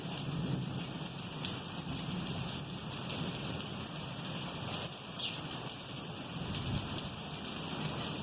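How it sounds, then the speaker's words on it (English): Steady rain falls during a thunderstorm, a dense continuous patter with low rumbling underneath, holding even and moderately quiet throughout with no voices. "Thunder's still rolling, and we're at 18 minutes"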